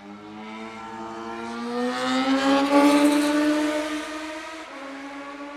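Motorcycle engines drone past on a road in the Czech Republic, the pitch climbing as they approach, peaking loudly, then fading as they ride away.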